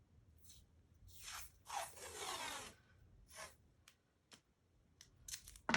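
Washi tape from a Journal Studio collection is trimmed with scissors in a few quiet, close snips and rustling rubs, separated by short pauses of near silence.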